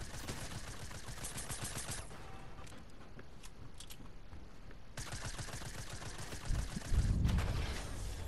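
Rapid bursts of AK rifle fire in a video game, dense crackling volleys that pause briefly mid-clip and then resume loud and close, with a heavier thump near the end.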